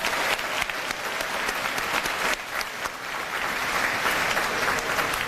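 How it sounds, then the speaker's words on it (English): An audience at a Bayside High graduation ceremony breaks into sustained applause, many hands clapping at a steady, fairly loud level with slight swells. "Let's give them one more round of applause."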